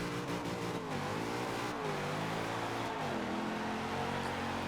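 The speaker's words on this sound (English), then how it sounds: "Quite a bit of wheel spin." A Nissan IDx concept car spins its wheels in Forza, its engine droning at high revs with rising and falling pitch sweeps as the tires break loose, loud and continuous throughout.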